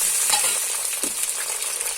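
Tomatoes dropped into a pan of lightly browned frying vegetables for a village-style vegetable curry, a short bright sizzle with stirring scrapes, close and fairly loud.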